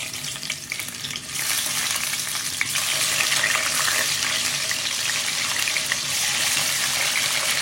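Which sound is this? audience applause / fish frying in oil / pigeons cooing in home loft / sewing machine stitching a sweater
fish frying in oil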